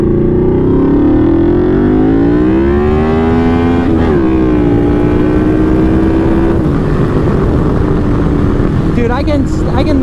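A Yamaha V-Max motorcycle accelerates hard, its engine note climbing and shifting in a loud, close, continuous roar mixed with heavy wind rush.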